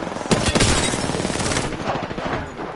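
Rapid automatic gunfire in the Apex Legends battle royale, a dense stream of loud, close shots that swells with a heavier burst early and then rattles on steadily before thinning out.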